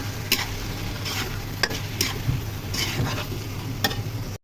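Turmeric, chilli, coriander and cumin fry in a pan for a chicken bhuna, a steady close sizzle punctuated by repeated scraping strokes of a spatula at an uneven rhythm.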